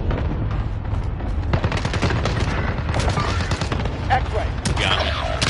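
Heavy gunfire aimed at the player in a PS5 first-person shooter, with dense overlapping shots and automatic bursts rattling continuously and loudly throughout, mixed with mechanical game sounds.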